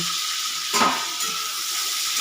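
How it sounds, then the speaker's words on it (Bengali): Close, continuous sizzling of two kinds of prawns being turned while frying in a pan, with a brief louder burst of spitting oil near the start. "চিংড়ি মাছটা এখন উল্টে পাল্টে ভেজে নেব"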